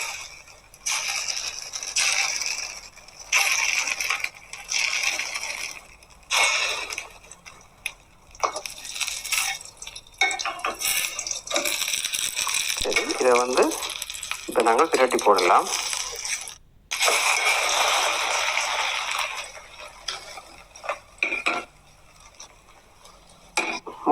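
Egg poriyal frying in a pan over a low flame, a steady soft sizzle with scraping and stirring clatter, heard under continuous talking from a nearby voice.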